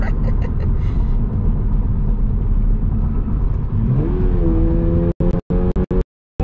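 A 2022 Toyota GR86 engine holds a loud, steady drone while driving, then rises in pitch as it revs up, followed by several abrupt cutouts near the end.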